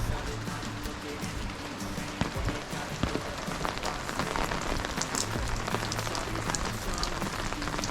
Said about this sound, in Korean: 비가 진짜 많이 와요 오늘.